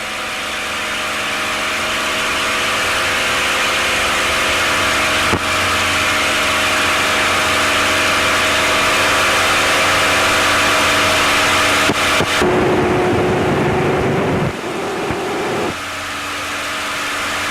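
A TF-51 Mustang's piston aircraft engine runs loud and steady as power comes in for the takeoff roll, a dense continuous drone that shifts in pitch partway through and then settles back.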